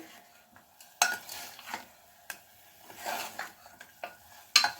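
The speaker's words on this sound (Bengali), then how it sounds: "এরকমভাবে আমি একটুখানি ভালো করে চিকেনটাকে কিন্তু কষিয়ে নেব" Chicken pieces being sautéed and stirred in a pan over a medium-low flame for a home-style stew, with a spoon scraping in quiet, intermittent strokes and a soft sizzle between them, no voices.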